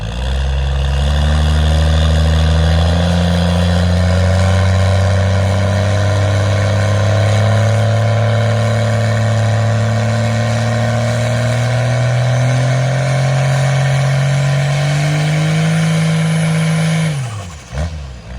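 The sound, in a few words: car engine spooling on fuel only, no nitrous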